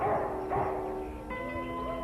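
Dogs from a sled dog team give a few close barks and yips, followed by a whining, tonal whimper over a steady background hum.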